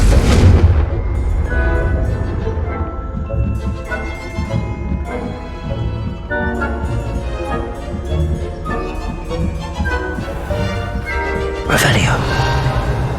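In the Hogwarts Legacy video game, the Confringo spell blasts with a heavy boom at the start and another near the end, set against game music and a talking voice.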